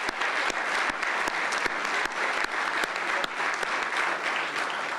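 Steady audience applause at a Deschutes Brewery announcement event in Roanoke, Virginia, with sharp individual claps standing out over a continuous dense wash of clapping throughout.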